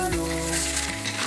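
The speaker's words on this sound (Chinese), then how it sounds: "香菇末下锅，放点海鲜" Minced shiitake mushrooms and seafood hit a hot wok in a rural home kitchen, raising a loud, close sizzle over a steady tonal hum for about a second.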